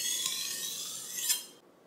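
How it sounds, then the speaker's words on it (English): A kitchen knife scrapes along a whetstone in one smooth, close stroke lasting over a second, a gritty rasp that swells slightly at the end before stopping. "You want to use the whole stone as you sharpen."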